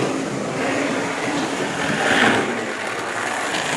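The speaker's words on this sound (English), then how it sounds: "So this is chuffing now." Hornby Triang model steam locomotive with a Triang smoke unit running, giving a steady close rushing chuff with a slight swell in the middle, with no talking.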